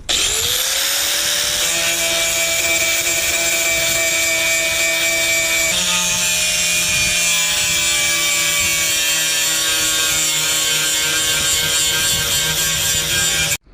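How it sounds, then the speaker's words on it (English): An angle grinder working around the edge of a car door handle hole spins up into a loud, piercing, continuous whine that holds steady with slight pitch shifts as it bites the metal, then cuts off abruptly at the end. "Now I just ground around the edge here just enough to get a good weld and a plate in there."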